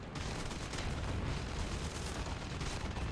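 Cannons on an HE-112 B aircraft fire in War Thunder, a dense continuous burst of rapid booming shots that rolls on without a break, loud and rough, with no talking.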